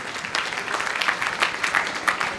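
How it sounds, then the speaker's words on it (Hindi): A classroom audience of students claps at a farewell lecture, producing dense, continuous applause with slightly uneven bursts of sharper claps throughout, fairly close and loud. "बजा लो ताली भाई, तुम लोग का हाथ खुला हुआ नहीं है"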